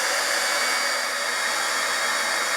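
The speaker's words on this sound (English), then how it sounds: "if I grab my embossing gun, you can heat it up." An embossing heat gun blows steadily on embossing paste, a loud constant airy whoosh and fan whine with no change in level, close and alone without talk.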